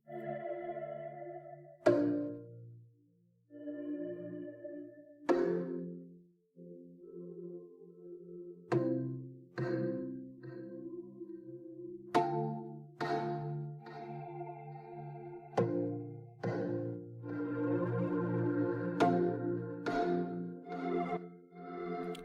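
A sustained, echoing tone with several sharp attacks, each leaving a long reverberant tail that smears into the next, like a sound washed in heavy reverb.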